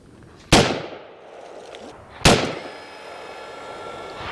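Two loud, sharp gunshots ring out several seconds apart at an outdoor shooting range, each followed by a decaying echo, from larger-caliber guns such as a Tavor TS12 shotgun or a 7.62x39 CMMG rifle.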